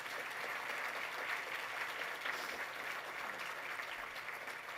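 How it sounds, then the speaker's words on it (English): Continuous, even applause fills an awards ceremony hall as the audience honors award recipients, a steady wash of many hands clapping at moderate volume with no break. "So let's give all of our award recipients another big round of applause."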